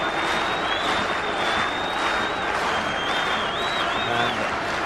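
A rugby crowd at the 1991 World Cup match between England and New Zealand claps at a kicker who is lining up a kick. The clapping blends into a steady, dense wash of crowd noise, and no separate claps can be picked out.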